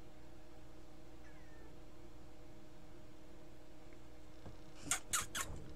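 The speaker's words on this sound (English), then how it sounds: "she'll sit next to my chair, and she'll meow until I stand up" A pet cat meows next to a chair in a room where insects are pinned for a scientific collection, a short burst of two or three close, clear meows near the end after a quiet hum.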